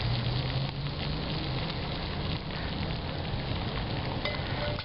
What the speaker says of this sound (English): the rolling boil